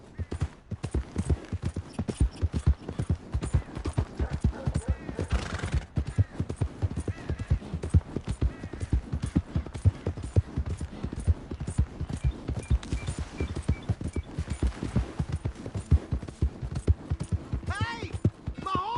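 Steady rapid hoofbeats of a horse in a video game clop along in a continuous trotting rhythm, close and even, with occasional faint background sounds layered beneath.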